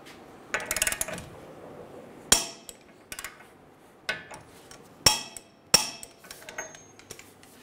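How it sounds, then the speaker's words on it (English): Axle nut on a 2011-2014 Hyundai Sonata torqued to 188 foot-pounds while a pry bar holds the wheel studs, giving sparse sharp metallic clanks and knocks spaced irregularly over quiet. "Using a pry bar to hold the studs, we're going to torque our axle nut to 188 foot-pounds."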